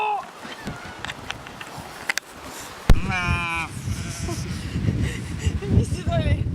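Sheep bleat on a farm field, one wavering bleat and then a few more, close and clear, with voices talking loosely around them.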